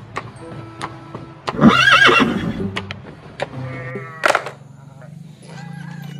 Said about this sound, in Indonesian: ini ada kuda teman-teman.